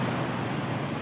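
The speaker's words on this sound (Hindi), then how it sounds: "बहुत ही सोहने नज़ारियां विच बहना पिया दरिया नीलम" The Neelam River flowing through the Neelam Valley gives a constant, dense rushing roar of water, loud and unbroken with no talk over it.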